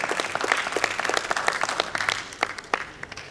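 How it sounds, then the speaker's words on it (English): An audience at a tech and innovation summit held at BITS Pilani in Goa claps loudly, a dense round of applause with sharp individual claps standing out, sustained throughout. "Loud round of applause."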